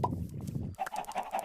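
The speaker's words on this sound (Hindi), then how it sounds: "मुर्गी इतनी सारी, मुर्गा एक भी नहीं" Chickens in the game Minecraft cluck in short, repeated bursts, the first part low and thick, then brighter, evenly spaced clucks close by with no talk.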